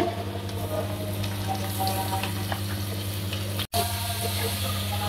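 Onions frying in oil with ginger-garlic paste, a dense continuous sizzle close by, steady throughout apart from a brief cut near the end, with a low hum underneath.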